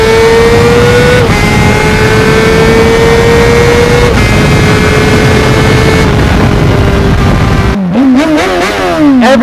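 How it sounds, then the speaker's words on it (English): Honda CBR600RR sport motorcycle engine holding a loud, steady high-revving whine with gear-like pitch steps, then rapidly blipping the throttle in sharp rising and falling revs, very close to the microphone. "Everyone wants a rev, bro."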